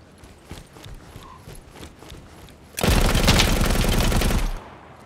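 Automatic rifle fire in the tactical shooter game Ground Branch, a loud sustained burst of rapid shots lasting under two seconds after a quieter stretch of game ambience.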